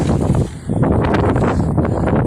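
Strong wind gusts blow outdoors in high winds, a loud roaring buffeting close to the microphone that dips briefly before surging again and roaring on.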